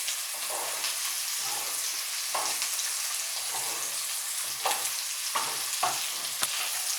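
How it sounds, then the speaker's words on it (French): A veal chop sizzles steadily in a pan while it is basted with rosemary, the loud, even hiss broken by brief scraping and spooning bursts every second or so. "Donc là j'arrose avec le romarin."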